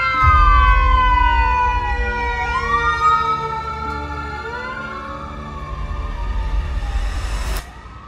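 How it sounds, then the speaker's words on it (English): An ambulance siren wails loudly close by, its rising and falling tones sliding downward in pitch as the vehicle passes, over a low rumbling engine, then cuts off abruptly near the end. "That's why the ambulance are coming around here"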